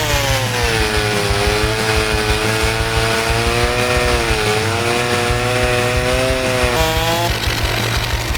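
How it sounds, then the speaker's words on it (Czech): A chainsaw cuts into a tree in the Forestry 2017 simulator game, its loud engine droning steadily throughout with a wavering pitch as it bites into the wood, and no talk over it. "Táhneme si motorovou pilu a jdem do toho"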